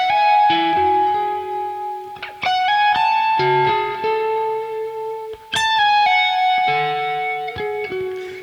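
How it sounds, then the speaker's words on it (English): An electric guitar run through an octave echo effect plays sustained, ringing single notes and short melodic phrases, each note trailed by a repeating higher echo, loud and up close with no talking. "the octave echo"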